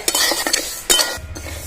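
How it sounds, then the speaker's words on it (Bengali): Lentils dry-roasting in an empty kadai, stirred with a spatula that scrapes and clinks against the metal in quick repeated strokes, close and fairly loud, with no voices. "প্রথমে ডালটা ভেজে নেবো ডালটায় সবসময় খোলায় ভেজে নিতে হবে"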